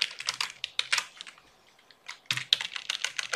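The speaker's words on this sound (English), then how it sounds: "And we type" Rapid bursts of keystrokes on a computer keyboard while entering a name into an Arduino Uno LCD Simulink setup, close and crisp, pausing briefly in the middle before resuming.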